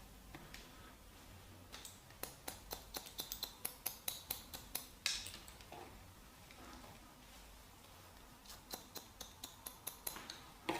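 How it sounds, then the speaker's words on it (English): Quiet, crisp snips of hair-cutting scissors working through a man's hair, coming in quick rhythmic runs of small clicks with short pauses between sets, close to the microphone. "we just need to bring the scissors round and then we cut in on this angle"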